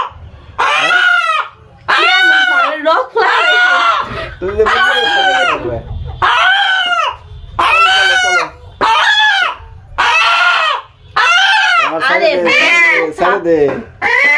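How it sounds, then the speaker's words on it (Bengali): A country rooster squawks and clucks in repeated loud harmonic bursts while it is being caught by hand, with people talking throughout. "মুরগি"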